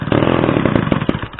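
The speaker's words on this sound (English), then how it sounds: "Try to start it up with the new pull start cord on it." An old Homelite Super XL automatic chainsaw with a new pull-start cord sputters and rattles loudly and close while being pull-started, a rough, uneven engine churn with no voices.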